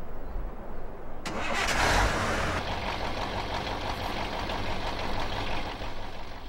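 In a Farming Simulator 2015 game, a Ural 5557 truck engine cranks briefly and catches, then settles into a steady low rumbling idle with a knocking texture, heard alone at moderate level.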